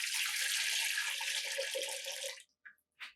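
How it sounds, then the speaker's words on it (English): Water is poured into a cooking pan to make rice for chicken biryani, a steady splashing stream for about two and a half seconds, then a stop and a few brief drips. "Add 12 cup of water in a pan."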